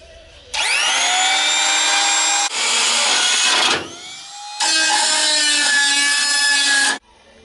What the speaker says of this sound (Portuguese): Eu vou usar essa fresa para remover esse metal